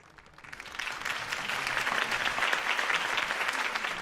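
A crowd breaks into applause in the Batman Telltale video game, swelling from quiet within the first half second into sustained, dense clapping that holds at a steady level.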